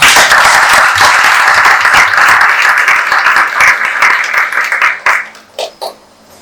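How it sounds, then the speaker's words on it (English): Audience applause for industry-expert panelists at an HR career session at JBIMS, steady dense clapping from a room of people that thins out and tapers into a few scattered final claps. "Can we have a big round of applause for?"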